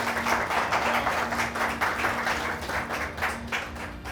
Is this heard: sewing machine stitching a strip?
no